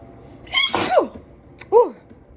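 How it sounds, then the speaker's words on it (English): A single close, loud sneeze, a sharp burst with a gasping intake, followed by a short voiced sound, in a quiet room. "I have to sneeze."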